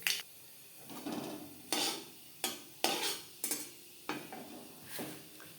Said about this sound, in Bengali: ফোড়নে দিয়ে দিলাম 1/2 চামচ কালো জিরে।